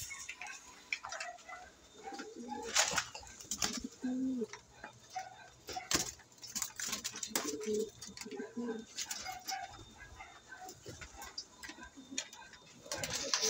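Pigeons coo softly amid scattered bird calls and light ticking noises, with a quiet background hum throughout.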